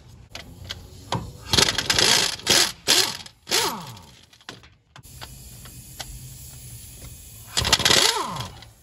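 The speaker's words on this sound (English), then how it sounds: "I'm gonna go ahead and take my socket and remove all 6 bolts." A socket wrench spins out bolts from a brake rotor on a Nissan Titan during CV axle work, with bursts of ratcheting and whirring, loud and close, separated by short pauses and metallic clicks.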